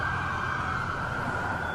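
Police car sirens from dozens of cruisers converging on the Emory University campus wail as a loud, steady, continuous tone over dense traffic rumble, with no speech.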